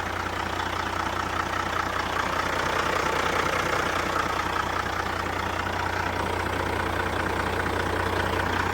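A Kenworth W900 truck's diesel engine, dyno-tested at 485 horsepower, idles smoothly and steadily with a constant low rumble and faint knock for the whole stretch, close and loud with no talk over it.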